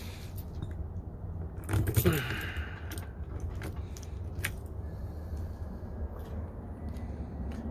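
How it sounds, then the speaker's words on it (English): Key of a 2011 supercharged B8 Audi S4 handled and slid out of its fob, with a burst of metallic jangling and clicks early on, then quiet handling noise. "So here's the key inside of the key fob"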